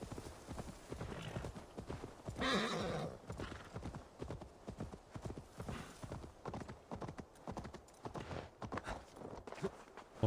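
Horse hooves clip-clop steadily through a game world in Assassin's Creed Valhalla, with a loud whinny partway through, all under ongoing ambient game sound.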